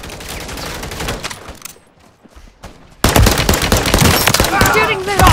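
Heavy automatic gunfire from a Call of Duty match bursts in loud and dense after a brief quiet lull, with earlier chaotic firing and shouting voices mixed through the battle.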